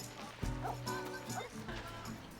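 Puppies yip and bark in short bursts over a steady background murmur, with people talking nearby.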